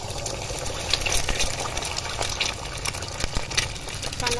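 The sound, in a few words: egg being poached in a pan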